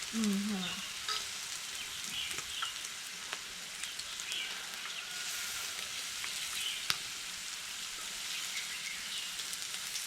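Steady crackling sizzle of pork on a hot Thai grill pan, a continuous hiss with scattered pops, close by and fairly quiet.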